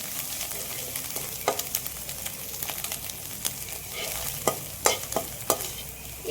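Chicken noodles with egg and onion being stir-fried in oil in a pan, with a steady sizzle and scattered sharp scrapes and clinks of the utensil tossing the food, no talking.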